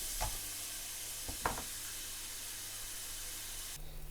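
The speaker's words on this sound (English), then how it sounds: "Add in the red onion, stir through and fry gently until the onions soften and begin to slightly brown and caramelise." Red onion frying gently in a pan, a soft steady sizzle with a few light knocks of stirring early on, fairly quiet throughout.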